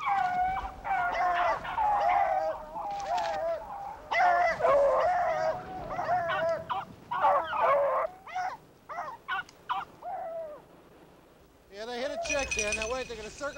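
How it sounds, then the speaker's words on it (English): A pack of beagles bays and yelps while running a rabbit in the snow, a loud ongoing chorus of howls close by with bursts of excited barking. "If you like beagles, this is pretty thrilling music."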